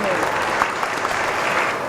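A studio audience on a French talk show claps warmly for the guests, a brief dense burst of applause with a host's voice faintly mixed in.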